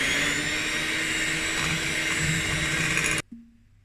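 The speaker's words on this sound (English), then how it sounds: "I'm going to mix that up a little bit." An electric mixer whirs steadily while mixing sour cream and sugar for a chocolate cake filling, a loud continuous motor drone that stops abruptly near the end.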